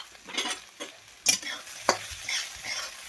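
Okra with salt and coarsely crushed peanuts is stir-roasted in a pan: quick spatula scrapes and light clatters come in irregular strokes over a soft, close sizzle.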